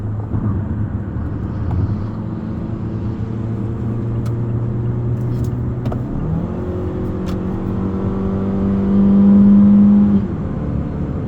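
A 2024 Mazda CX-5's engine drones steadily, then climbs in pitch as it revs hard to redline, peaking loudly near the end before settling back.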